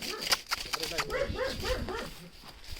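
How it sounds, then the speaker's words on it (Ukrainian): A dog barks and yips in short repeated bursts close by, mixed with a person's voice talking over the noise. "Сейчас собака гавкає"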